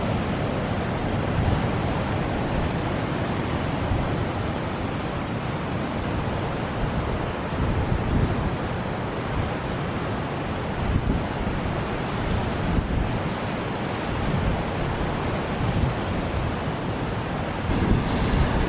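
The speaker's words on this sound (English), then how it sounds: "Definitely windy out here." Strong wind buffeting the microphone over crashing ocean surf below the Mussel Rock cliff, a loud continuous roar with gusty swells and no voices.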